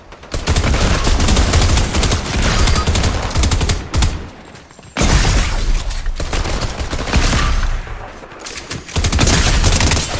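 Turret gunfire in Fortnite: loud, dense automatic bursts lasting several seconds each, with brief pauses between volleys.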